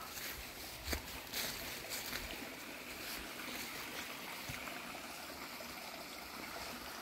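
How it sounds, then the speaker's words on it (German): A stream flows beside a hiking trail between Trechtingshausen and Niederheimbach in October, a faint continuous hiss of running water with a few soft knocks near the start. "Und der Bach."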